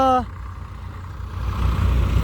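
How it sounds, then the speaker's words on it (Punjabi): Several New Holland 855 tractors working a field, a steady low engine rumble that swells toward the end, with a brief voice at the very start. "ਮੁੰਡੇ ਲੱਗੇ ਹੋਏ 855 ਟਰੈਕਟਰ ਨਿਊ ਹਾਲੈਂਡ"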